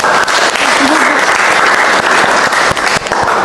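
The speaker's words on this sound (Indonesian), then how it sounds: "tepuk tangan." A loud, sustained round of applause rises from the audience at a nursing lecture session at STIKes Mitra Husada, close and continuous throughout.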